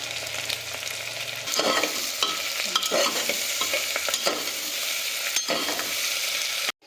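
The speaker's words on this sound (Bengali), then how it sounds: "চলো এবার আমরা পেঁয়াজটাকে ভালো করে ভাজা করে নিচ্ছি" Onions fry steadily in a hot pan for mutton chaat, a continuous close sizzle with occasional stirring scrapes, ending abruptly.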